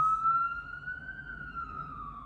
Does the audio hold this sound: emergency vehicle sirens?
yes